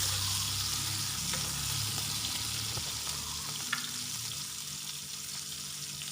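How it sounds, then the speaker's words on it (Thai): Steady, close sizzling of garlic frying in a hot wok, a constant crackle with an occasional faint clink. "ใส่กระเทียมนะคะกระทะเราร้อนแล้วค่ะ"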